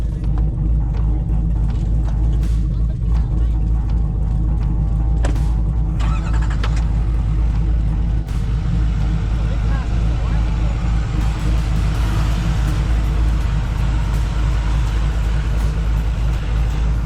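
A two-wheel drive truck's engine rumbles steadily during a stuck-vehicle recovery, loud and continuous with scattered knocks and clanks.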